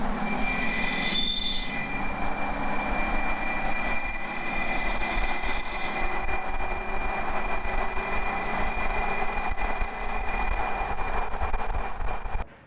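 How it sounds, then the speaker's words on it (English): A high, steady whistle rides over the deep drone of a V8 TDI with an aftermarket exhaust, sustained and loud throughout the whole stretch without talk. "It's got a silly exhaust on it that whistles like mad."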